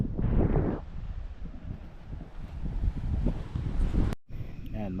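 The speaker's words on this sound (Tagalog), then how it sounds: "Tsaka ang lakas ng hangin" Strong wind buffets a microphone at a beach campsite, a steady low roaring rush with gusty swells throughout; a brief voice is heard at the start and a short dropout near the end.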